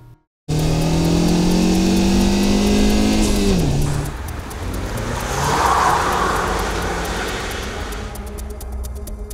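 A Ford Mustang Convertible with the 2.3 engine drives the alpine D526, its engine note loud and close, rising under acceleration, then dropping on a shift and settling into road and wind roar.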